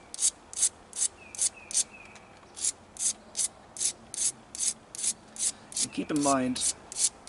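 A knapped dacite stone tool is ground in steady, rhythmic strokes, with regular rasping scrapes about twice a second. Someone briefly speaks near the end while insects chirp faintly in the background.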